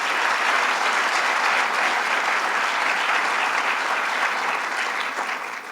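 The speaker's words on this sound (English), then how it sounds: "So let's give them a round of applause." A large audience applauds the MTA workers' union at a public art installation event in New York, sustained dense clapping that stays loud and even before easing slightly at the end.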